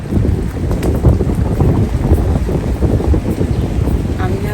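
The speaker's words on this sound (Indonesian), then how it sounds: "Anginnya kencang." Strong wind buffets the microphone in a rainy town near a fish market, a continuous loud rushing roar with gusty swells throughout.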